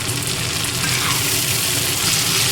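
Onions frying in a pan until lightly browned, a loud, steady, close sizzle with dense crackling hiss that runs without pause and without any talking.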